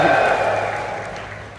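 A large convention crowd at CitizenCon cheers and applauds in one sustained roar that slowly fades over its short length.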